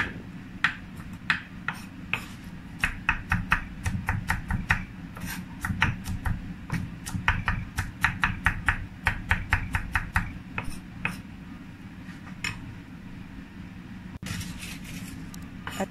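A knife chops and minces garlic on a board, fast, crisp, evenly spaced taps close up in long runs, with a short pause before a final burst, no talk.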